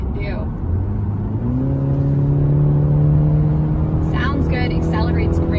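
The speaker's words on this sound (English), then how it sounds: "We're going to test out the acceleration of the car, 10-speed automatic transmission, and see what this 2-liter turbo can do." A 2020 Cadillac CT5 sedan with a 2-liter turbo engine and 10-speed automatic accelerates hard, its engine note climbing steadily and loud from inside the cabin, with a voice speaking briefly near the end.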